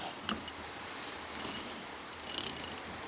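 An old socket wrench from a socket set ratchets in two short, faint bursts of quick clicking against a quiet background.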